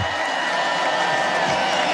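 Convention crowd at the Republican National Convention applauding and cheering, a dense, continuous roar of clapping and voices filling the hall at steady loudness throughout.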